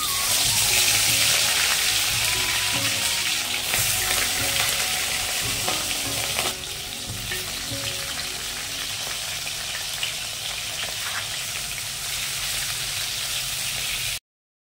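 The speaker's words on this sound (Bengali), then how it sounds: "তেলটা এবারে গরম করে নেব।" Mustard oil sizzles and crackles steadily in a hot wok, a continuous close frying hiss that eases slightly partway through.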